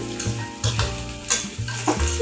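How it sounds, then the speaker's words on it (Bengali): Greens tossed into hot oil with chili and onion sizzle steadily while a utensil stirs them in repeated scraping strokes, the frying hiss close and continuous with no talking. "মরিচ পেঁয়াজটা ভেজে শাকটা খেয়ে যাবো"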